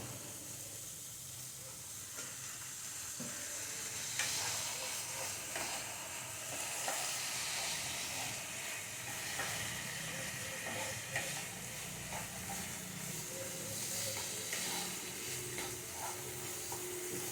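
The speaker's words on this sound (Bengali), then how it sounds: "ভালো করে মশলাটা ভাজবো সামান্য একটু জল দিয়ে মশলাটা আর একটু কষাবো" Spice masala fries in a pan with a little water for a vegetarian banana stem dish, giving a steady soft sizzle and hiss with occasional stirring scrapes, faint and continuous throughout.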